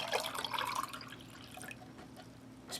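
Water is poured into a British ration pack sweet cherry drink mix, splashing and dripping in a short, fairly close burst that tails off into faint trickles.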